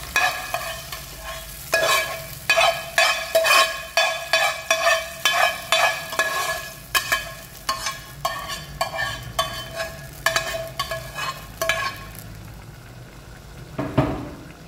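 A spoon stirs a ghee tempering and tips it into chicken dalcha curry, giving a steady series of close scraping, clinking strokes over a soft sizzle, then quieter near the end with one last clatter.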